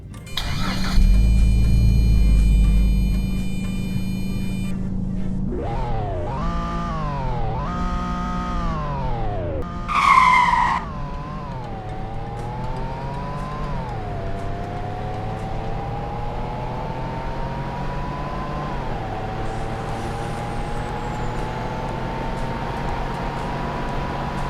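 Engine of the fictional Avant car in Roblox: it starts, revs up and down a few times, then pulls away with a steady, rising engine drone that runs through several gear shifts.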